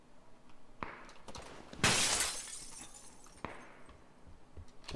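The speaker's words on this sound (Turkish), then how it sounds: "Camı ben kırdım." Window glass shatters in the PUBG battle-royale game, a sudden loud crash just before the two-second mark that tails off into scattered tinkles, with faint footsteps and game noise around it.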